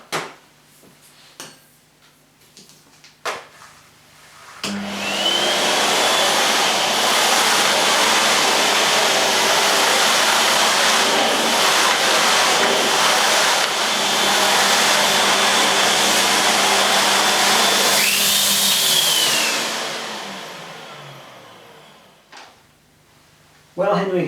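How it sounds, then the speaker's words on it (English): A Numatic Henry canister vacuum cleaner starts up with a rising whine, roars steadily for about fifteen seconds while vacuuming a floor, then winds down; a few knocks and bumps before and after. "I'm going to use Henry first to vacuum the floor"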